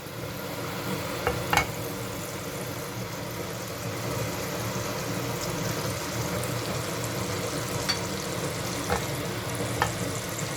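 Butter and salt sizzle steadily in a hot frying pan, a dense, even crackle that holds for the whole stretch with a few sharper pops, close and alone without talk.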